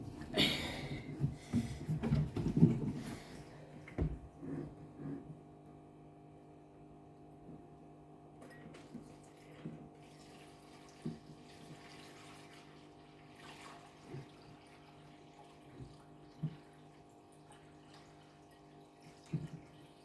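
Water slowly pours into a fish tank with a soft, continuous trickle and some gurgling splashes, louder and busier at the start before settling into a quieter steady flow.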